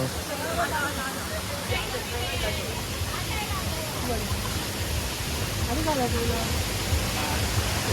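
A hidden hot-water waterfall in the Konkan region during the monsoon, producing a steady broadband roar of falling water with a murmur of crowd voices mixed in throughout.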